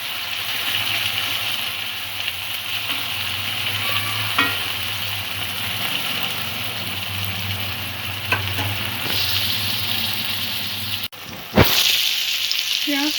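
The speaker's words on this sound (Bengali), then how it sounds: "হালকা করে ভাজা করে নেব পেঁয়াজ টমেটোগুলো।" Onions and tomatoes fry lightly in oil in a pan, giving a continuous close sizzle with a few stirring knocks and a louder clatter near the end.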